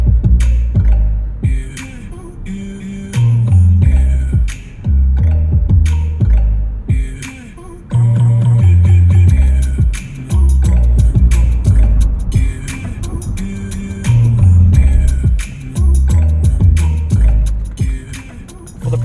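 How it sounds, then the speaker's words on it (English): Music playing through the Bose sound system of a 2022 Chevrolet Bolt EV, a loud, bass-heavy track with punchy beats filling the cabin, heard alone without talk. "This also has the Bose sound system. Let's test that out real quick, see what it sounds like."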